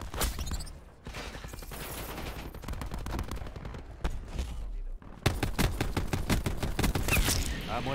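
Rapid gunfire rattles in the Black Ops 4 video game, with bursts of automatic shots, a short pause, then more sustained firing, loud and close.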